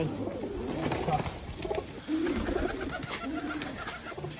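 Several pigeons coo in repeated low, throaty phrases, close by and overlapping, with no voices over them.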